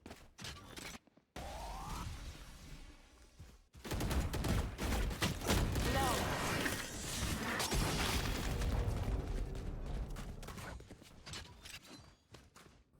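Rapid gunfire from a Valorant finals match, bursts of shots and impacts after a brief silent gap, dense and loud through most of the stretch with game effects layered in.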